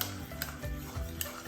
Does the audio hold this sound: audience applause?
no